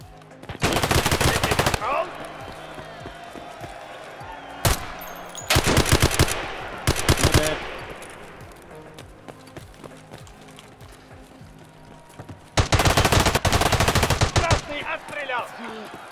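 Automatic gunfire rattles in loud, rapid bursts during an Escape from Tarkov Arena match, with several separate volleys and a single sharp shot between quieter stretches of footsteps and movement.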